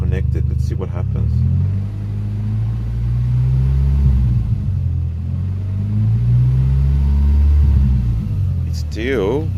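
An Audi S3 8L engine idles with its airflow meter and oxygen sensor disconnected, a low, steady rumble with slight fluctuations, with a brief voice at the start and end.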